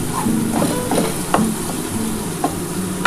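Ghee is added to a pan for a duck egg korma and sizzles steadily close up, with faint spatula scrapes and clicks scattered through the hiss.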